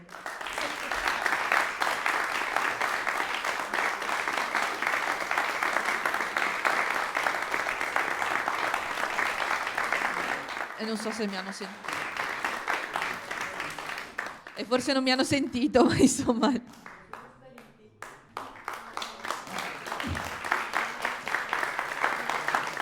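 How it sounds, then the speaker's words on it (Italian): Audience applause for a pianist and violinist at an autumn matinée concert at Teatro delle Voci in Treviso, a dense steady clapping that fills most of the clip, with someone talking over it near the end. "li invito per l'ultimo applauso sul palco"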